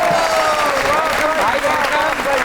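A studio audience on a comedy talk show applauds to welcome the guest Nabeel, loud continuous clapping with a cheering or musical tone running underneath throughout.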